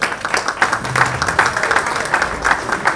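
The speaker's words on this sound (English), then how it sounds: "A big round of applause" An indoor audience at a business event gives a round of applause, dense steady clapping from many hands that holds at full strength for the whole stretch, with a faint voice or two underneath.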